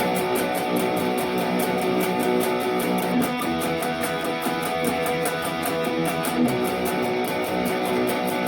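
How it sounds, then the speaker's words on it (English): Palm-muted electric guitar power chords chug in a fast, steady rhythm, loud and continuous with no voice over them. "Just pretty much power chords on this."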